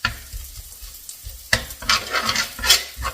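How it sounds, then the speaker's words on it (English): A metal utensil scrapes and stirs across the bottom of a pan while a shrimp and butter bean stew cooks, giving irregular close scratching strokes over soft sizzling. The scrapes grow louder in the second half. "So don't freak out when you hear me scratching the bottom of the pan."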